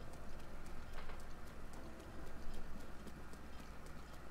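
Horse galloping in the video game The Legend of Zelda: Breath of the Wild, a quiet, steady run of evenly spaced hoof clip-clops over a faint ambient background.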